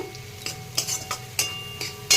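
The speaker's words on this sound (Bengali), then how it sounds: "আমি পেঁয়াজ রসুন দিয়ে ভাজা করছি" Onion and garlic fry in a pan with a pinch of turmeric, a spatula scraping and stirring in regular close strokes over a light background sizzle.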